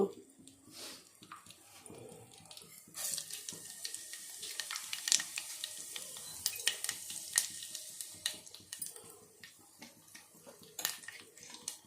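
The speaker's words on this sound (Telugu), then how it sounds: "ఇప్పుడు దీంట్లో ఉల్లిపాయ, కరివేపాకు, మిరియాలు వేస్తున్నాను" Chopped onion, curry leaves and black pepper go into hot oil for a tamarind-based lentil-fritter curry, crackling and sizzling steadily with stirring clinks, utensil taps and a voice talking over it.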